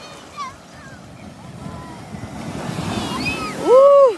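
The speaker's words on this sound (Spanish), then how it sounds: "Me encanta cuando es grande la ola" Ocean waves break on a beach in a soft, continuous surf wash that swells toward the end, with wind across the microphone and a voice speaking over the water.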